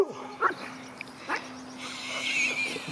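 A pug gives a few short, sharp barks and yips outdoors, spaced irregularly over a soft background hum and rustle, with fainter activity trailing toward the end.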